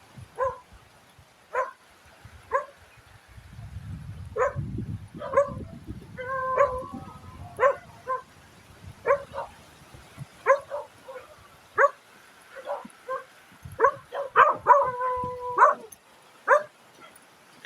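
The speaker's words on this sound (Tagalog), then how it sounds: "May aso." A dog barks repeatedly in short, sharp yips at irregular intervals, fairly close, near fishing boats, with some low background rumble in between.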